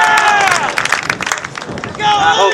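A live audience at a tea party rally answers a call for IU fans with scattered cheers, whistles and applause, plus a loud group shout at the end, all mixed with crowd chatter.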